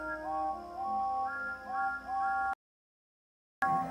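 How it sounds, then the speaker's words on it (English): Toy trains Thomas and James sound repeated whistle toots in overlapping stepped pitches, probably voiced by a person. The whistling breaks off in silence and resumes briefly. "they cried, and sounded their whistles as loudly as they could"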